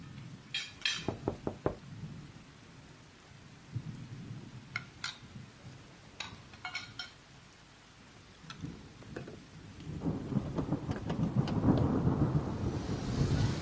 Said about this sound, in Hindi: भाई बड़ी बारिश हो रही है बाहर